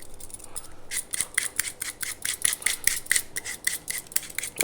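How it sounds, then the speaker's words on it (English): A speed peeler scrapes around an apple in quick repeated strokes for tarte tatin, a steady series of crisp, close rasping swipes that starts after a short quiet moment. "I'm going to peel my apple"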